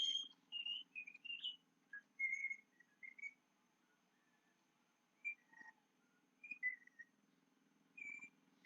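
Someone whistling a short tune imitating a bird, a series of faint, thin chirping notes in quick phrases separated by pauses, over a quiet low hum.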